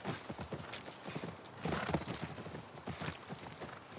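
Horse hooves in the video game The Last of Us Part 1 clop steadily in a quick walking rhythm, close and clear, with a brief snort or whinny midway and no talk.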